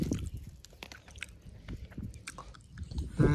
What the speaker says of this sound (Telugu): ముళ్ళులు ఉండవు కాబట్టి ఇంత ధైర్యంగా తింటాను నా ముక్కలు